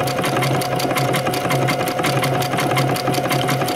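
A sewing machine fitted with a wing needle, stitching with 40 weight polyester embroidery thread on top and a light bobbin thread, gives a fast, even mechanical chatter with a steady rhythmic pulse, close and continuous.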